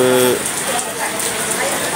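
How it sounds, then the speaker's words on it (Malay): Steady rain falling in Cameron Highlands, a continuous soft hiss filling the short stretch, with a brief tonal murmur at the start. "Hujan sini."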